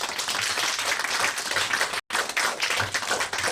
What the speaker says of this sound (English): So please give a round of applause to Bing.